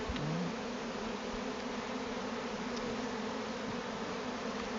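A steady, dense buzz of honey bee workers fills the air around an open hive during an inspection, a continuous close drone with no voices.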